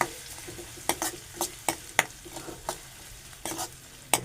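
Onions sautéing in a generous amount of hot oil with a spoon stirring, steady low sizzle under a series of sharp clinks and scrapes against the pan, close and fairly quiet, no voices.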